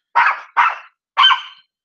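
Guard dog giving three loud, close barks, two in quick succession and then a third after a short pause, with a rough, growly edge and silence in between.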